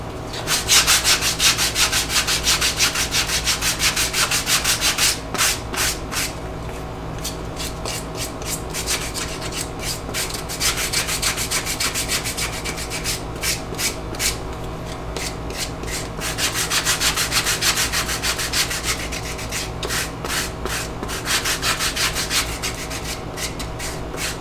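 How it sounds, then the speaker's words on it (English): Leather edges of a stitched iPhone 6 sleeve are sanded by hand, a close, loud, rhythmic rasping of quick back-and-forth strokes that runs steadily with only brief pauses. "Rough dry sand, now a little damp sand."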